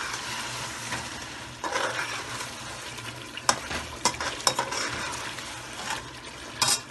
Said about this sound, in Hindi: इनको डाल के थोड़ा सा भूनेंगे